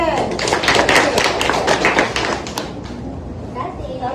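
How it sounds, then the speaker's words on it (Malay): A short burst of clapping from a small group in a classroom teaching session, quick uneven claps that fade out after a few seconds. "Okey, tepuk tangan."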